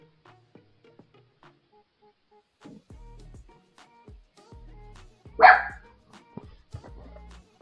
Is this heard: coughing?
no